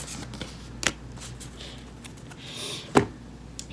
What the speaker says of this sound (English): I'm over here shuffling this like it's a tarot deck